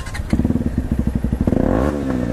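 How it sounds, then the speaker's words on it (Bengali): A motorcycle on a Kolkata street, its exhaust silencer thumping in a steady, close idle beat before the engine swells into a louder, smoother rev near the end. "তোমার সাইলেন্সারে কি আওয়াজ হয়?"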